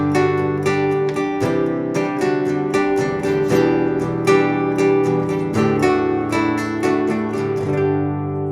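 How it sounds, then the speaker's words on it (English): Open guitar chords played with added embellishments and moving notes, strummed in a lively steady rhythm that rings full and close, with no one talking. "make your open guitar chord progressions a little more fun, a little more interesting"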